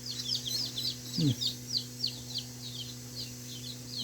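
Many newly hatched chicks chirp continuously in high, rapid peeps, with a brief lower call partway through and a steady background hum.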